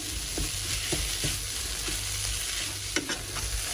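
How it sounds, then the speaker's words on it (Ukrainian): A utensil scrapes and stirs a flour-thickened vegetable sauce in a frying pan over a steady sizzle, with a few soft knocks against the pan's surface. "Періодично помішуємо тому що борошно тут і воно прилипає до сковорідки, до дна."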